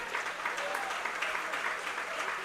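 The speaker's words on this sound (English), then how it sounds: "Jacket fans give him a big round of applause" Baseball fans in the stands applaud an injured catcher who has gotten back to his feet after hitting the wall, a soft, distant, steady patter of clapping with a faint voice underneath.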